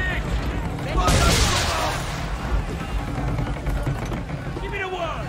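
A gunfire volley of massed muskets from a line of soldiers in Assassin's Creed 3 bursts out loud and dense, then gives way to scattered shots and a battlefield din. Shouted commands sound nearby.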